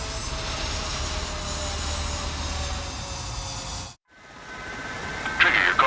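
Jet fighter engine roaring steadily on a runway before takeoff in the Ace Combat 7 flight combat game, a loud sustained rumble that cuts out briefly and then resumes with a higher whine.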